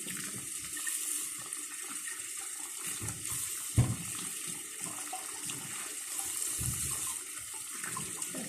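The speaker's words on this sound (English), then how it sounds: "the rest of them I'll just give them a good rinse" A kitchen tap runs steadily while freshly harvested peppers are rinsed under it, a continuous close splashing wash with a few louder knocks and shifts as the peppers are handled.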